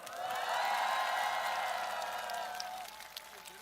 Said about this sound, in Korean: 뜨거운 환호와 박수 부탁드립니다